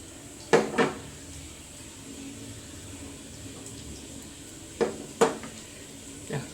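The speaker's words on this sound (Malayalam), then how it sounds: "ഇപ്പം നമുക്ക് ചപ്പാത്തി ഇട്ട് കൊടുക്കാം കേട്ടോ" Chapati dough laid onto a hot pan on a smoking stove, heard as a few sharp close clanks and thumps of cookware spaced apart over a quiet kitchen background.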